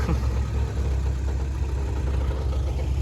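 A boat powered by a tractor engine runs steadily in the morning at a river mouth, a continuous low, rumbling drone with even loudness and no voices over it.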